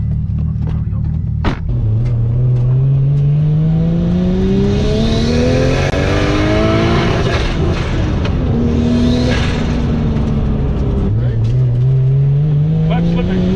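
A tuned Nissan R34 Skyline with an RB25DET engine drives loud from inside the cabin, its revs climbing steadily through long pulls as the clutch slips, with gear-change drops and people talking over the engine.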